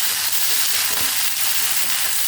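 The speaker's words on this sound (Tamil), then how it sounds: "இதை போட்டு நல்ல முருகலாக வறுத்துட்டு" Curry leaves fry hard in hot oil in a pan, giving a loud, steady, crackling sizzle that stays dense throughout with a few sharper pops.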